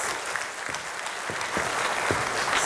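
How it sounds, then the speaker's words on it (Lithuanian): Steady, dense applause from a studio audience welcoming Lithuania's new culture minister, continuous clapping throughout at an even, fairly loud level. "plojimais pasitikime"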